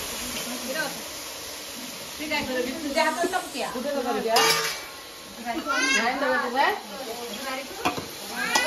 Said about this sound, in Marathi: तर इकडे आता फोडणीला देत आहेत मस्त आहे की